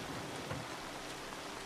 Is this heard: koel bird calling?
no